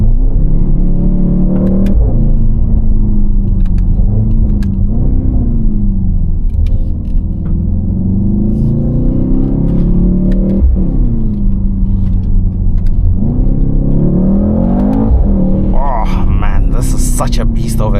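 A Mercedes-AMG GT63s with a 639 hp biturbo V8, driven hard from inside the cabin: a loud, continuous engine roar climbs and falls through repeated surges of acceleration, with sharp crackles between pulls.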